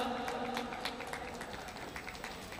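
Faint, steady applause from an audience welcoming a panel guest at a televised business show, a dense crackle of many hands clapping at a distance with no voices over it.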